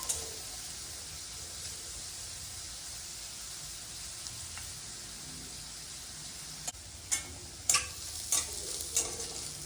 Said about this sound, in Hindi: अब हमें प्याज को मीडियम आंच पे मैं इसे 5 मिनट तक फ्राई करूँगी।